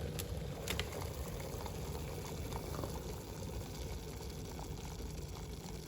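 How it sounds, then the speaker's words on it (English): A Philips HD9306 electric kettle boils water with a steady rumbling hiss and faint bubbling, continuous and fairly quiet, plus a few small clicks near the start. "You can see it boiling."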